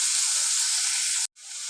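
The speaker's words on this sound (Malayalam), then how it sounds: "അരിഞ്ഞു വെച്ച സവാള ഇട്ട് കൊടുക്കുക. കുറച്ച് വഴറ്റിയെടുക്കുക." Chopped onions hit hot oil in a pan for a Kerala chicken stew, giving a loud, steady sizzling hiss that cuts out abruptly for a moment, then resumes a bit softer.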